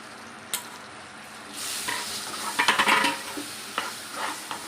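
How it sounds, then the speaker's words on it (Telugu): Spices and salt being stirred into a curry of colocasia pieces, with a spoon scraping and tapping the pan over a soft sizzle, the stirring growing busier midway. "అన్నీ వేసి ఇలా కలుపుకోవాలి"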